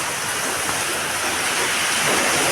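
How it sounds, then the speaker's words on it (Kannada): Sudden heavy rain pouring down with gusting wind, a steady, dense roar of downpour close by with no break and no voices. "ಸಡನ್ ಮಳೆ ನೋಡ್ರಿ ಹೆಂಗೆ ಬರಾಕತ್ತೈತಿ."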